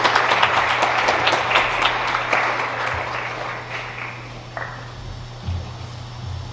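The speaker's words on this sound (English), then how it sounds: "A big round of applause," Audience applause in a hall at a synagogue symposium, a dense patter of clapping that stays steady and gradually thins toward the end over a low hum.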